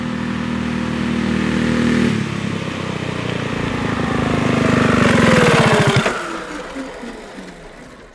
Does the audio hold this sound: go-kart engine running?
yes